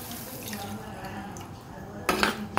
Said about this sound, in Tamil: ஸோ வந்து பால் ஆட் பண்ணிடலாம்.